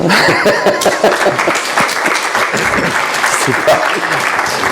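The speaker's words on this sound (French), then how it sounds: "Si vous aviez envie d'applaudir, n'hésitez pas." A conference audience bursts into applause after an answer during a talk on genocide and its prevention. Loud, dense clapping runs throughout, with a few voices and faint chuckles mixed in.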